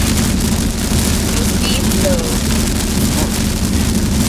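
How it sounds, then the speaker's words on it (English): Steady rain drumming on a Camaro's roof, a dense hiss with low rumble throughout, and faint voices underneath. "the rain's kind of coming down now"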